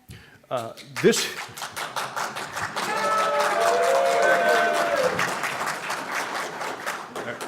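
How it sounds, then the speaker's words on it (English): Conference audience clapping at a DrupalCon Nashville talk: a few scattered claps first, then many hands swelling into loud, sustained applause mixed with cheers and voices before tapering toward the end. "I was distracted by the clapping."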